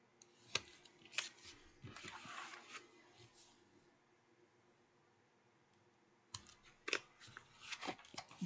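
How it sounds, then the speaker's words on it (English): A finger blade craft knife slices and mitres paper while making an expandable paper holder, giving quiet, scratchy cutting strokes in two clusters separated by a lull of near silence. "I'm going to take my finger blade and I'm just going to miter"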